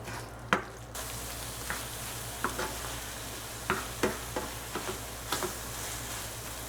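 Tofu scramble with onions, spices and herbs stirred in a pan, a soft steady sizzle with scattered spoon scrapes and clicks against the pan, close and alone with no talking.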